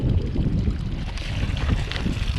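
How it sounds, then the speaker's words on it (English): Strong, steady wind buffeting the microphone while riding a Yamaha 450 dirt bike on a cold, rainy day near a river, a constant low roar with no talking. "I gotta tell you, man, it's windy."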